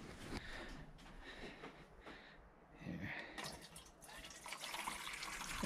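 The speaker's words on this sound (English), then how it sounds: "Let's water the rabbits now." Faint water being poured for pet rabbits on a small farm, a quiet, uneven splashing and trickling that comes in soft bursts and swells, with little else around it.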